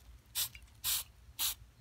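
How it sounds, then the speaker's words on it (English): Zip Kicker CA glue accelerator sprayed from a pump bottle onto 3D-printed BB-8 panels: three short, bright hissing bursts, evenly spaced, close and clear, with no talk. "First I have a zip kicker that I spray on"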